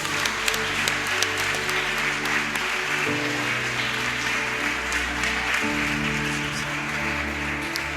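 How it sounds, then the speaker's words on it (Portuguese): A church congregation claps continuously during an evening service, the sustained applause layered over held keyboard chords. "Aplaudam o Senhor por essas vidas"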